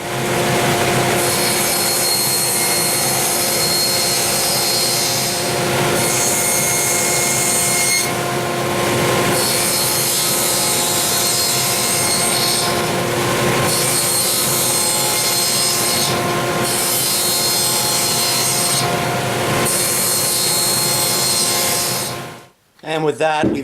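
Birch multi-ply plywood being sawn into 5.5-inch squares, a loud, close, sustained cutting whine with several short dips as pieces are finished, ending with a brief drop near the close and no talk.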